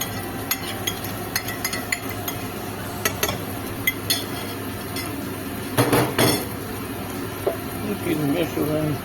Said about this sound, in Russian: И перемешиваем с луком.